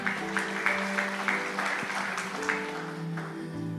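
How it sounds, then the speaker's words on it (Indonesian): Church congregation applauding during a sermon, a steady wash of clapping with sustained organ or keyboard tones underneath, moderately loud throughout. "Kasih tepuk tangan buat Tuhan"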